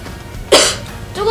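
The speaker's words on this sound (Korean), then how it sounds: "기침 한번 해보세요" During a first-aid demonstration, a person acting as a choking patient gives a single sharp, loud cough close by, followed by a brief vocal sound.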